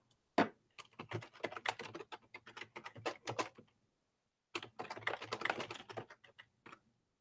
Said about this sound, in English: I'll type it in the chat for you all.